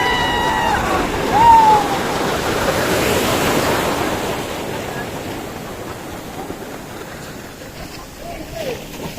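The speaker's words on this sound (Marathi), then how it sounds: "लाटा बघू शकता आपण." Ocean waves break and wash steadily on the beach at Ganpatipule, a broad close roar that swells early and then eases, with a brief whistle-like tone near the start.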